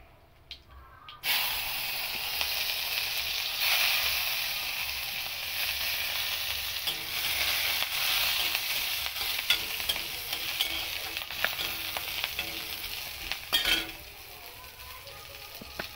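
Nigella seeds, a green chili and a little onion dropped into hot oil for a spinach dish burst into a loud, continuous sizzle that holds for about twelve seconds, then eases off, with occasional stirring clicks and no talking.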